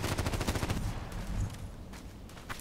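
Rapid bursts of HK417 rifle fire in a video game, loud and close, with dense automatic shots in the first half giving way to sparser, fainter reports.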